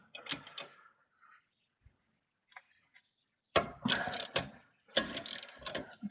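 A hand ratchet works on the 15mm bolts holding a rear brake caliper, giving short bursts of rapid clicking separated by quiet gaps, close and fairly faint.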